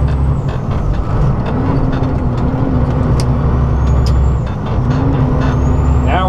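Heavy truck engine labouring at full power up a steep mountain grade at about 19 mph, a loud continuous low drone with a steady rising harmonic tone, close and unbroken throughout.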